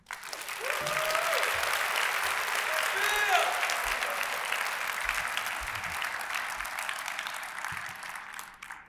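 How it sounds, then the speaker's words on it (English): An audience at a MASCON 2019 convention talk breaks into sustained applause that swells quickly and holds steady for several seconds before tapering off, with faint voices beneath. "The applause wasn't enough"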